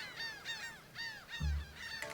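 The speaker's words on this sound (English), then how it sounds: "The seagulls on the beach suddenly turn their heads toward Raphael. They stretch their necks and squawk loudly." Seagulls on a beach in the video game Love and Deepspace give a series of loud, nasal squawks, about four or five calls in a steady rhythm, close and clear, with no voices.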